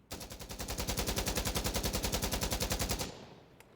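A Call of Duty Modern Warfare II rifle empties a full magazine in one loud, steady automatic burst of rapid shots lasting about three seconds, then cuts off into a short fading tail.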